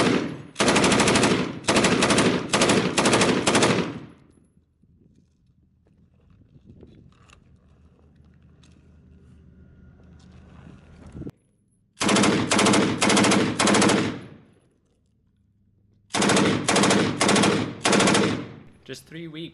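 M249 machine gun fired at an outdoor range in three loud, rapid bursts, separated by quieter stretches of faint ambient noise.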